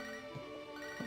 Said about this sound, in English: Oh, we're getting a phone call.